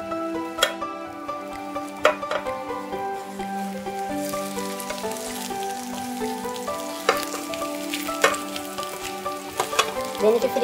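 Egg frying in a pan for omurice, a steady close sizzle with occasional sharper clicks and scrapes of stirring.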